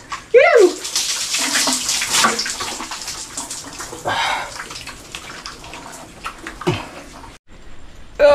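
Rainwater splashes and pours over a bathing body in uneven bursts in cold weather, loud and close, with faint talk briefly in between.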